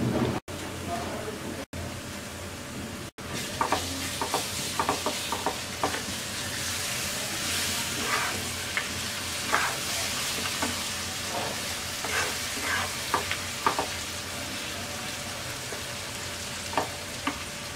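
Sliced onions fried light brown in oil, with ginger-garlic paste added for chicken dopiaza, sizzle steadily and close, broken by frequent spoon scrapes and stirring knocks against the pan; no talk is heard.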